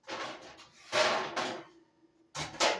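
Baking pans clatter and knock close by in several short bursts with brief pauses between them, as they are taken out to bake an apple pie.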